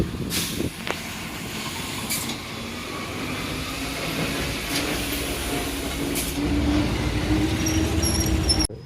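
A lorry carrying an elephant after the Kizhoor Pooram 2024 festival approaches with a low, rumbling engine drone and hiss, growing slightly louder as it nears, with a few sharp clanks.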